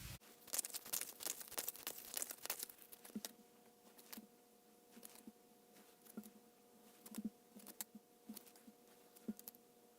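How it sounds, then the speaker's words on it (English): Tarot cards being shuffled by hand, a dense flurry of quick soft riffling taps that thins into scattered light clicks and flicks, faint and close with a faint steady hum behind. "I'm going to shuffle some more cards"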